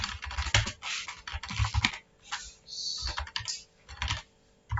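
Close typing on a computer keyboard while moving files in a Windows command prompt, bursts of quick key clicks with short pauses and a louder keystroke at the end, with no one talking over it.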